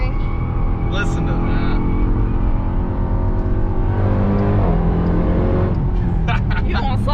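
A 2021 Dodge Durango SRT Hellcat drives hard on all-season tires, its engine droning loud and constant with shifting pitch, with a voice talking over it.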